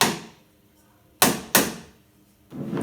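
Wooden spoons drumming on plastic, giving a dull, plasticky knock: a few sharp, close strikes with short decays and a roughly spaced rhythm, with no talk over them.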